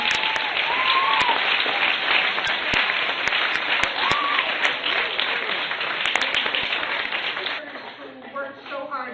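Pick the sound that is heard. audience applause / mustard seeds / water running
audience applause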